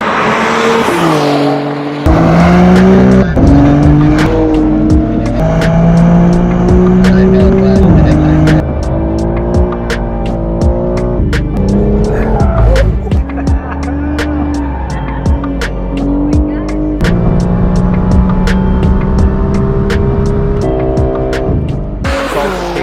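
A BMW M4 G82 engine revs and shifts loudly up and down through the gears with rising and falling pitch, punctuated by sharp bursts and brief tire squeals as the car is driven hard close by.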